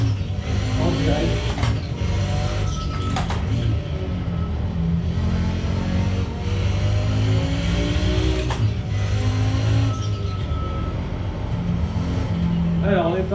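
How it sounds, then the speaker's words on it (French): An Audi 90 lapping Okayama circuit in the iRacing sim howls through its gears, the engine note climbing and dropping repeatedly over a steady rumble, with a voice talking over much of it. "on est sur Okayama avec l'Audi 90 de iRacing"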